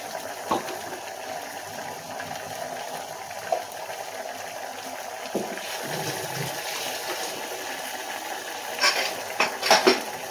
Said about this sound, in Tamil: இப்போ நம்ம அதுக்கு வந்து தேங்காய் துருவலை சேர்த்து நல்லா கலந்து விட்டுடலாம்